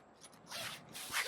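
A zipper on a photography set with a built-in diffuser is pulled open in a few short, faint rasping strokes, close up and with no talking.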